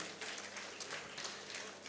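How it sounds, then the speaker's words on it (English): An academic conference audience applauds a speaker at an economics association gathering, a steady, moderately distant patter of many hands that continues unbroken throughout. "A very huge round of applause for a young man"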